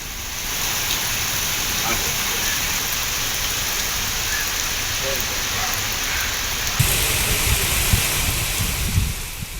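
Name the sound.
heavy rain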